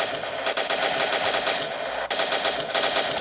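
Sustained machine gun fire in a World War 2 video game: dense, loud automatic bursts rattling continuously with a brief break near the end before the firing resumes.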